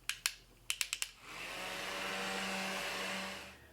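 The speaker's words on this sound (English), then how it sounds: "Next, drying it with the handy dandy fan." A small handheld fan drying makeup setting spray on a face, whirring steadily up close after a few quick pumps of the spray bottle.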